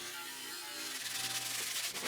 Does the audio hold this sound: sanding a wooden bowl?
yes